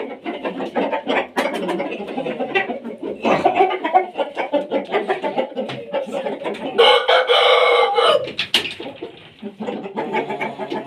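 A rooster lets out a loud, full crow lasting over a second, standing out above a steady background of farmyard hens clucking and chattering nearby.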